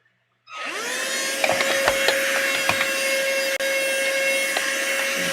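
A vacuum cleaning a Featherweight sewing machine starts after a brief silence and then runs as a steady, close whine with a few soft bumps and scrapes, with no talking.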